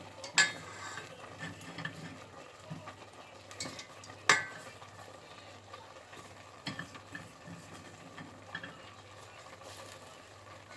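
Half a kilo of broccoli being stirred in a pot. Quiet scraping and scattered sharp clicks of a utensil against the pot come in an irregular rhythm, with a faint background hiss.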